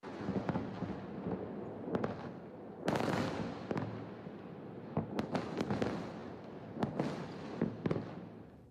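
Distant booms and sharp cracks burst irregularly over a continuous rumbling background as Iron Dome interceptors meet a barrage of incoming Iranian missiles over Israel, the explosions scattered like fireworks at varying distances.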